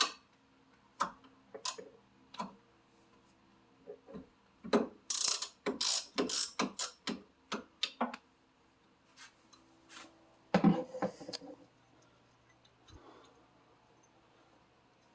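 A ratchet wrench clicking as rear suspension bolts are loosened on a 1991 Toyota MR2, several bursts of close, rapid ticking strokes with short pauses and a final flurry of clicks.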